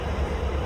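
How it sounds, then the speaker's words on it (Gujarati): Train starting to move out of a station in Surat, a steady low rumble and rattle of railway carriages throughout, close and continuous with no voices. "આપણે ટ્રેન ચાલુ થઈ છે તો ચાલો"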